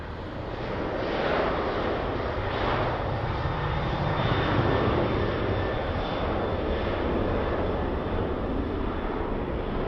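A Ryanair jet at the airport gives a continuous loud engine roar, broad and steady with slow pulsing swells, heard from outdoors without talk.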